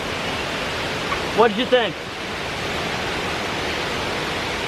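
A waterfall in Ubud, Bali roars as a steady, dense wash of falling water throughout, with a person speaking briefly over it.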